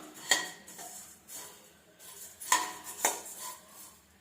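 Puffed rice being scooped and poured back into a metal vessel, giving a few sharp metallic clinks and scraping rustles spaced irregularly, close and moderately quiet.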